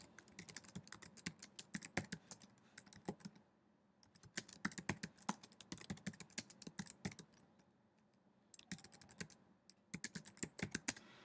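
Typing on a computer keyboard, a close, steady clatter of rapid keystrokes in bursts with brief pauses between them, no voices.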